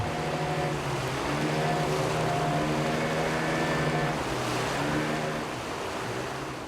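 Boat on river rapids in Honduras, a loud steady motor drone with sustained tonal engine harmonics over rushing, splashing water that holds throughout and eases slightly at the end.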